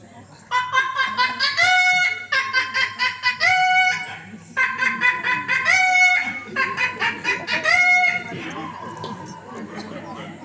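A person imitates a hen's loud, excited clucking and cackling in repeated bursts, rising and falling, with pauses between phrases.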